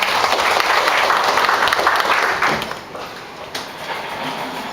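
An audience at a rubber-industry training session claps for the chairman of the opening ceremony, a loud crowd applause that thins and fades partway through, leaving quieter scattered claps.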